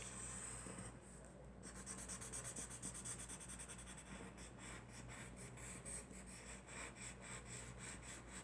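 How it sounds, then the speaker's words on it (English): A tortillon rubs over pencil shading on a drawing, making soft, repeated papery scrubbing strokes that are faint and close, with no voices. "I'm going to come back over with my Tortillon and shadow all of that"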